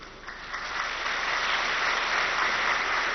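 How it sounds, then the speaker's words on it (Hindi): An indoor audience at a spiritual talk breaks into applause, a dense steady wash of many hands clapping that swells slightly and holds, with no speech over it. "ताली बजा रहे हो कि बाबा आता भी है,"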